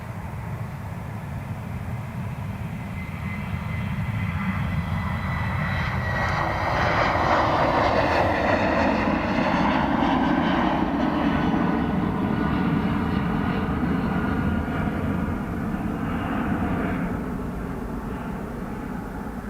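A C-130 Hercules military transport plane departs Dublin Airport, its turboprop engines roaring steadily and swelling louder as it passes close, then holding a broad drone throughout with no voices.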